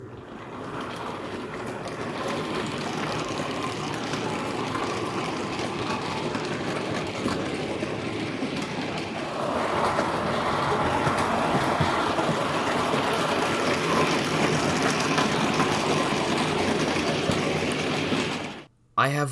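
A Hornby model locomotive fitted with a DCC decoder hauls a train, giving a steady, continuous running rumble with faint rail clatter that swells slightly midway and cuts off abruptly near the end.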